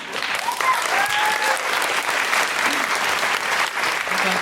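An audience at a live comedy podcast recording, a feminist panel show, claps steadily. The applause is dense and sustained, with scattered whoops and faint voices mixed in, and carries on evenly throughout.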